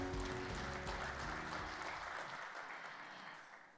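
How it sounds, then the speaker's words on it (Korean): An audience at a 2020 Korea labor culture award ceremony applauds steadily, loud at first, then fading away over a few seconds. "다시 한번 여러분 박수 한번 부탁드리겠습니다"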